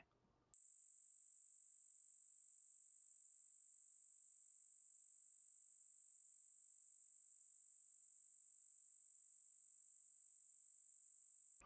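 A single piercing 8,000 hertz tone holds perfectly steady and loud for about eleven seconds, starting and stopping abruptly with nothing else around it.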